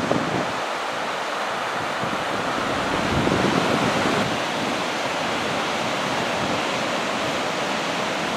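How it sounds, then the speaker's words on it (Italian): A river rushing toward waterfalls in Iceland gives a steady, loud roar of flowing water that fills the whole stretch without pause, with some wind buffeting the microphone. "Questo è il fiume che dà vita alle cascate."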